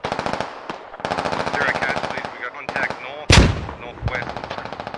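Bursts of automatic gunfire ring out in the military shooter game Squad, rapid rattling volleys with a brief pause, one heavy close shot and a further burst, loud and near.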